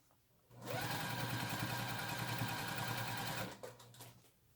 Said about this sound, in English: we're going to go ahead and just sew that right on